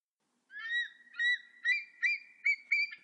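A Eurasian jay imitating a raptor's cry: six loud, drawn-out whistled calls, evenly spaced and slightly descending, like a hawk's mewing cry, with nothing else around.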